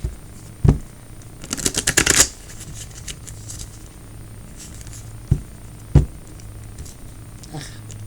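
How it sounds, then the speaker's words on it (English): Round tarot cards are shuffled close by: a quick flurry of riffling clicks, then a few scattered taps and soft handling sounds in a quiet room. "Round cards are very hard to shuffle."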